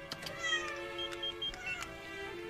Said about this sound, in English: Oh no. Here, kitty kitty.